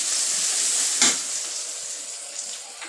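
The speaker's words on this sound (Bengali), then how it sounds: "পরিমাণ মতো তেল দিয়ে দিচ্ছি। তেল দিয়ে দিচ্ছি পরিমাণ মতো, ওই চুলায় পেঁয়াজের ব্যবস্থা দিচ্ছি ডিমের কোরমার জন্য।" Onions sizzle in hot oil on a stove for egg korma, a steady close hiss that rises with a brief sharper spurt about a second in, then settles back.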